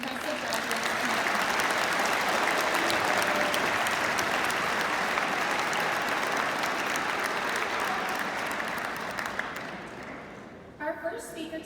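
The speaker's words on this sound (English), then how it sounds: "Let's give a round of applause for these impressive graduates." A large audience at a high school graduation ceremony claps for the graduates in long, sustained applause, dense and steady before fading near the end, where a few voices and a brief sound surface as it dies down.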